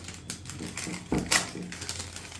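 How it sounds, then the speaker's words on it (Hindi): A thermal printer at a cafe and restaurant billing counter prints a kitchen order ticket, giving a run of dry rattling clicks and buzzy bursts at close range with no talking. "ये हमारी क्यूटी प्रिंटर से प्रिंट होकर आ चुकी है।"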